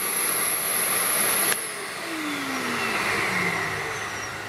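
Vacmaster 9-gallon portable wet-dry shop vacuum running, a loud steady motor whine and rushing air that shift pitch partway through as the airflow changes, with no voices.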